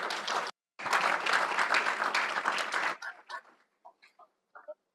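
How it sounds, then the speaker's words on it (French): Audience applause at a pitching session of the BlueInvest Africa 2024 event, a loud burst of clapping after a brief gap that stops abruptly, followed by a few scattered, sparse claps trailing off. "Sous vos applaudissements, s'il vous plaît"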